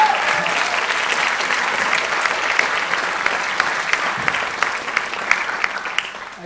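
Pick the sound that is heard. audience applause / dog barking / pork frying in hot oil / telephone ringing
audience applause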